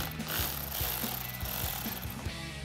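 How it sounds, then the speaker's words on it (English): A 10 millimeter socket ratchet loosens a battery terminal nut on a 2019-2023 RAM 1500. The clicks come in a quiet, regular series of short ratcheting strokes, close by, with no talking. "And then we can grab a 10 millimeter socket to loosen up this nut."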